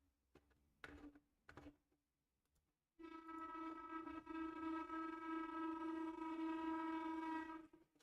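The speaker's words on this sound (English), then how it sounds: "that train was loud" A loud train horn blares steadily for about five seconds, sustained and strong with a harmonic tone, after a few brief clicks and knocks at the start.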